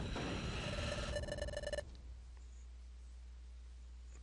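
Phone ringing at high volume, a bright electronic ring sounding for almost two seconds before cutting off abruptly into quiet room tone.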